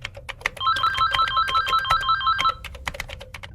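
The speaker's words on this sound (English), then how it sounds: "I woke up from some dumb nightmare to the antique phone ringing, the noise overpowering my earplugs." Antique telephone ringing inside a mansion, a loud bright electric bell trilling in one sustained burst of about two seconds, with scattered clicks and tapping around it.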